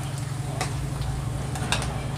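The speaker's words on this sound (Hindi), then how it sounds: "प्याज को हम हल्का ब्राउन होने तक पकाएंगे।" Onions fry in a pan until light brown for a Hindi-style potato curry, a soft continuous sizzle with a low steady hum and a few light stirring clicks.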